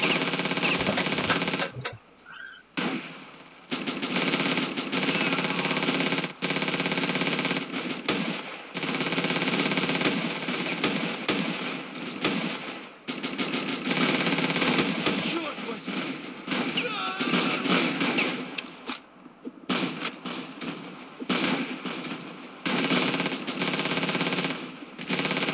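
A PPD submachine gun fires in Ravenfield during a 1939 Siberian invasion battle: long, near-continuous rapid automatic bursts broken by brief pauses, loud and close, with other battlefield gunfire around and a voice now and then.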